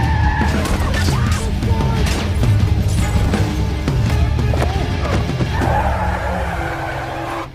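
A car brakes hard in a dramatic film scene, tires skidding loudly under dense, continuous action noise with a collision-like impact as a motorcyclist is thrown against it.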